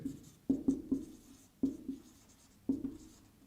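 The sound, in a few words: writing on a board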